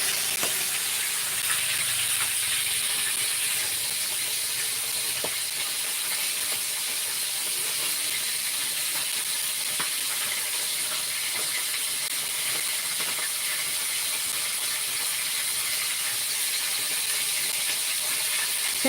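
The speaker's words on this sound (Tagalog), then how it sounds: "Yan ang aking pinipritong bangus." Milkfish (bangus) frying in a pan, giving a steady, dense sizzling hiss that carries on without a break and with no talk over it.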